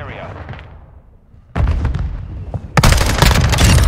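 In the Modern Warfare 2 game, a mortar strike lands with two heavy, close explosions a second apart, the second louder and rumbling on after a quieter lead-in.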